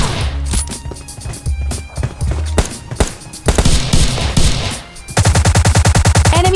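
Gunfire in the mobile shooter PUBG Mobile Lite, including an S12K shotgun: scattered loud shots and bursts, ending in a fast, evenly spaced string of rapid shots, with faint game sounds between.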